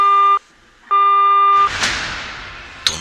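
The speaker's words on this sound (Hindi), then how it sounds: "कुछ देर के लिए फोन बजा और उसके बाद डिस्कनेक्ट हो गया" A mobile phone ringing with an electronic tone, two clear bursts separated by a short gap, followed by a whooshing noise and a faint click at the end; no talk.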